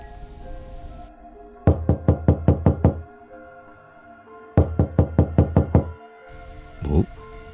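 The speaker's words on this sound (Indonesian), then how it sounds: "Bu Anis mendengar suara seperti ada yang mengetuk pintu." Two loud bursts of rapid knocking on a door at night, each about seven sharp raps, separated by a pause, heard over a low ambient hum with faint distant thunder.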